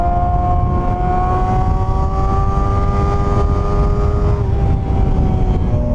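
A Suzuki GSX250F Across 250cc four-cylinder motorcycle engine whines loudly and steadily while riding, with a sustained high rev note that shifts pitch slightly near the end. No voice is heard.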